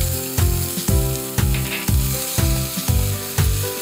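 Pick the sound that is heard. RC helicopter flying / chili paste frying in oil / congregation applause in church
chili paste frying in oil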